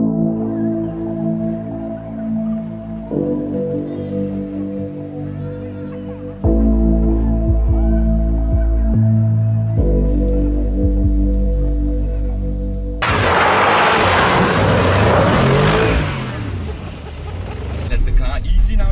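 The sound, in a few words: Bentley car driving sideways on an ice track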